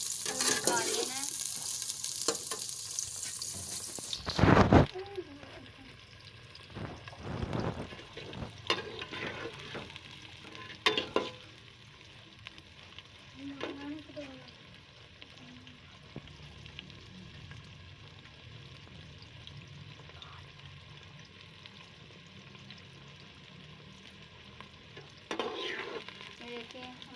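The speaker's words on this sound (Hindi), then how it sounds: "हम इसे फ्राई करेंगे। इसे हम 5 मिनट तक फ्राई ऐसे करते रहेंगे" Okra (bhindi) frying in a pan gives a soft, steady sizzle with occasional stirring scrapes and clatters, including a loud knock near the start, fairly quiet overall.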